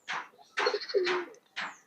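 Pigeons coo faintly in a breeding loft, giving a few short, soft calls and low throaty coos with brief pauses between them.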